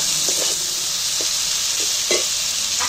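Mutton being sautéed (kasha) in a pan, a continuous bright sizzle and frying hiss with a few soft scrapes of stirring, close and alone with no talk.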